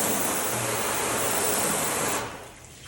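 Water sprayed over Turtle Wax Pure Shine or Meguiar's Ultimate Insane Shine on waxed car paint, a steady hissing spray that holds close and loud, then cuts off sharply near the end.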